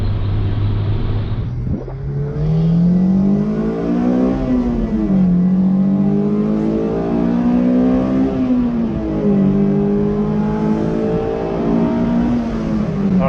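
A Corvette Z06 builds speed slowly, its engine note rising in a long steady sweep with gear steps, loud and close throughout with no talking.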